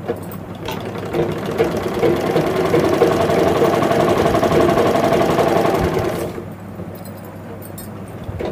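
A sewing machine runs a long seam down the sleeve of a nightie, its steady rapid needle chatter loud and unbroken for about six seconds before stopping, leaving quiet room tone.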